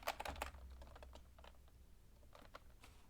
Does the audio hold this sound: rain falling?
no